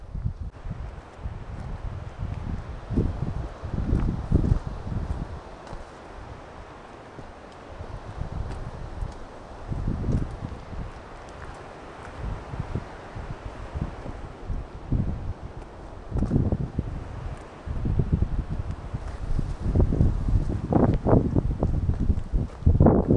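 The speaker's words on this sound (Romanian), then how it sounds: "Dacă ne împinge vântul." Steady wind blowing across an open microphone on a hike to the Chalaadi Glacier near Mestia, Georgia, with gusty low rumbles that swell and fade repeatedly, plus occasional rustling.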